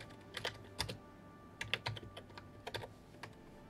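Bursts of typing on a computer keyboard, clusters of quick key clicks separated by short pauses, close and fairly quiet with no voices.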